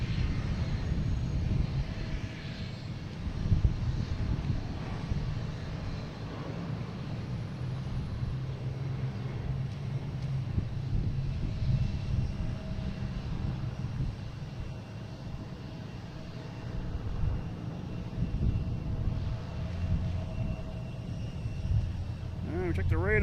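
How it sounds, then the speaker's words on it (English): A Copa Airlines Boeing 737 MAX 9 takes off on runway 4 right at Boston Logan, bound for Panama City, its broad engine roar holding steady and fairly loud from a distance throughout, with a voice speaking over it. "Now we got Copa Airlines heading to Panama City. Taking off on 4 right"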